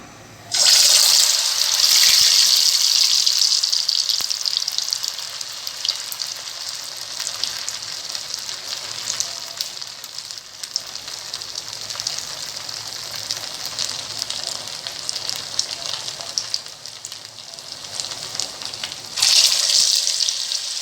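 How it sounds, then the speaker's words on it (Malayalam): Crispy vada made from leftover rice frying in hot oil, a loud, dense sizzle that holds steady throughout with a brief louder burst near the start and end, no talking. "ഇതുവരെ നമുക്ക് ബാക്കിയും കൂടി ഫ്രൈ ചെയ്തെടുക്കാം."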